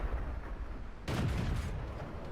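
A tank gun fires a heavy booming shot in World of Tanks, a sudden loud blast cutting through the rumbling battle noise and then ringing on.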